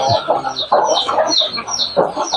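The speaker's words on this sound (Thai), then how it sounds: "ถ้าไม่อิ่มมันก็ควรอยู่นั่นแหละกุ๊กกักกุ๊กกัก" Chickens cluck and squawk continuously at a Thai fighting-chicken selection pen, several birds overlapping in busy, loud bursts with no talk over them.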